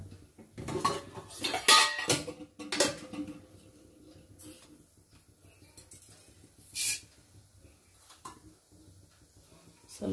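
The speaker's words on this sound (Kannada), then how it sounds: "ಈಗ ಈ ಕಡೆ ಇದಕ್ಕೆ ಸಾಸಿವೆ ಹಾಕ್ಕೊಳ್ಳೋಣ" Mustard seeds go into a hot pan while cooking, giving scattered clinks of metal utensils and cookware with short hissing, spattering bursts between quieter stretches.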